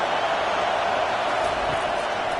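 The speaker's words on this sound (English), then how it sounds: "This crowd bringing the energy and noise early." Stadium crowd roar from the NCAA 25 college football video game, a steady loud wash of massed noise with no breaks, filling the whole stretch without clear individual voices.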